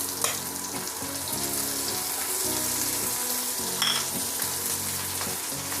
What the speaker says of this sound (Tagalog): Lagay na natin yung ating 6 na pirasong minced garlic.